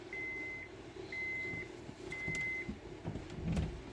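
Three even electronic beeps from a car's key-on ignition warning, engine not started, sound in a slow, regular pattern, thin and fairly quiet over low background rumble and a few faint knocks.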